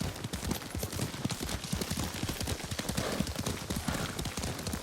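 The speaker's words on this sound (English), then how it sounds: "Lord Sakai taught me to ride a horse" Rapid hoofbeats clatter continuously, like a horse at a gallop, dense and rhythmic over a noisy background, from the video game Ghost of Tsushima.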